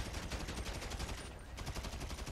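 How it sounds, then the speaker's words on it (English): Rapid automatic gunfire from the video game Grand Theft Auto V rattles in an unbroken stream of dense bursts with a brief pause near the middle, loud and close, with no talking. "And try to shoot Joy out."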